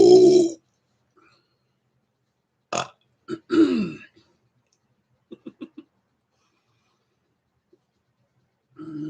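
Several human burps: one long, deep belch at the start, then a sharp one, a rolling longer burp, a quick run of four small burps, and another belch at the end, all loud and close with silence between.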